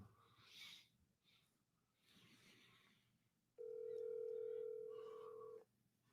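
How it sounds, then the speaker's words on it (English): A steady telephone dial tone sounds for about two seconds while a call is placed, following a few quiet handling noises, then cuts off abruptly. "Let's call Jordan up because this is a big day"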